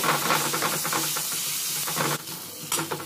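Ginger-garlic paste frying with onion in a pan gives a steady close hiss and sizzle, with soft stirring scrapes throughout and a brief louder burst near the end.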